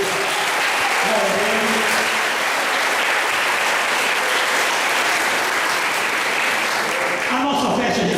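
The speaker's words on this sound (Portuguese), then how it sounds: "Você pode dar aplauso bem forte a Deus." A large audience applauds loudly and steadily during a church service, with dense continuous clapping that fills the space from start to finish.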